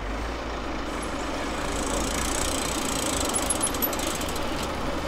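Engine rumble from car traffic on a London street on Christmas Day, a steady low drone of idling and passing vehicles heard from nearby, with no talk.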